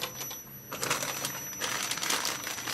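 A bag of small metal screws and washers is handled up close, giving a continuous jingling, clinking rattle with busier stretches near the middle and end.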